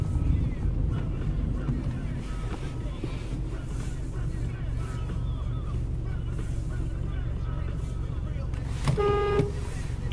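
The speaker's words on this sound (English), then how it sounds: "Okay, and that's me honking him." A car horn toots briefly near the end, after a long stretch of rumbling car interior and wind noise with some talking in the background.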